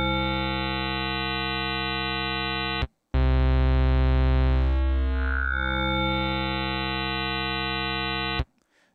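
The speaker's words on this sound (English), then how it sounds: "So you got a lot of buzzy, sort of distorted sounds in there. It seems like it's a combination of saw and pulse oscillators." Sequential Pro 3 synthesizer playing its Digiwave digital wavetable, a sustained buzzy, distorted tone mixing saw and pulse character, loud and alone, breaking off briefly before a second long note with a sweeping timbral shift.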